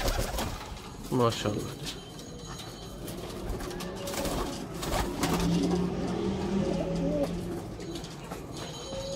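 Pigeons coo in a loft, soft throaty calls rising and repeating near the microphone, with a vehicle passing in the background and someone speaking briefly.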